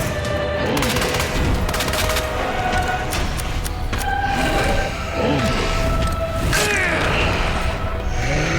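Sustained gunfire in Resident Evil 2 on Hardcore mode, with dense overlapping shots and bursts running continuously at close range, mixed with game mechanisms and a faint siren-like tone.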